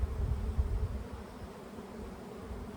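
Honeybees buzz around their hives in a low, steady outdoor drone with faint wind-like rustle, no voices.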